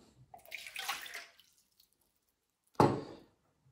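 Warm water poured from a glass for Pelmeni dough, a soft splashing stream for about a second, then a short, louder pour or splash after a pause, close and without talk.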